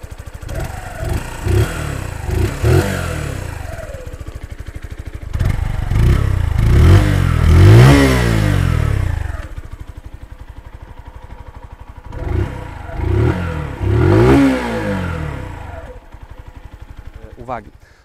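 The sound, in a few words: Barton Classic 125 single-cylinder air-cooled motorcycle engine running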